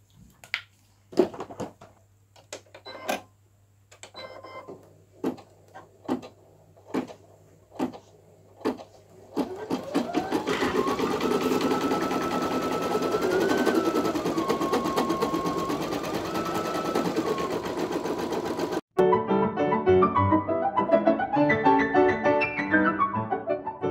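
A Brother Innovis 800E embroidery machine at work: a series of separate mechanical clicks and thumps, then a steady whirring stitching run with shifting motor pitch that stops and restarts, heard up close with no talking.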